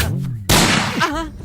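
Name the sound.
gunshot in a movie scene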